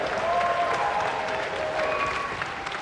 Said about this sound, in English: A round of applause again for Ashley Pass.